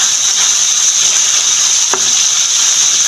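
Frozen food frying over low heat in a pan, a steady loud sizzle and hiss running unbroken throughout, with one brief soft tap partway through and no voices.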